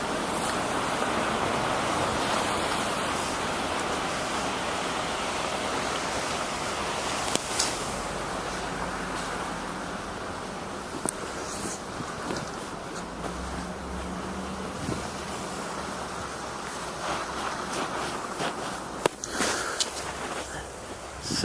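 Wind gusting through New York City during the February 2013 blizzard, a steady broadband roar with scattered buffeting bursts, continuous and fairly loud throughout with no voices.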